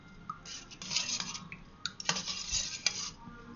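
Ragi porridge stirred with salt in a vessel: a quiet run of spoon clinks and scrapes against the pot, irregular and close, with brief louder taps.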